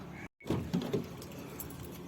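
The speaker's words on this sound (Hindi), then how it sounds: "और अब उठाएंगे अपनी चाबी को।" Keys are picked up and jangle briefly in a few quick metallic clinks, faint and close, against a quiet background with no talking.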